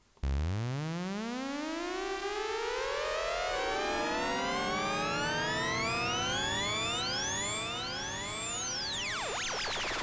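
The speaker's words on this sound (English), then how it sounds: "you get a saw wave oscillator, you also get that on the original model, and crucially, you get this delay circuit here." A Korg Monotron analog synthesizer with a saw wave oscillator and delay circuit sweeps its pitch up and down in a continuous tone, with echoing glides and a rising, whistling howl that bends wildly near the end, steady and loud with no talking.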